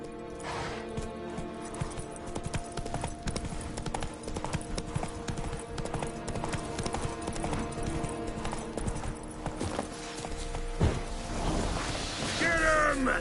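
A horse gallops in The Witcher 3 video game, its hooves beating a rapid, continuous clip-clop rhythm over game ambience, with a brief whoosh and rising effect near the end.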